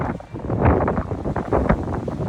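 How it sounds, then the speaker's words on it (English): Steady wind buffets the microphone, a rumbling, gusty roar that swells and dips continuously with no voices. "And it's windy, man. It's windy"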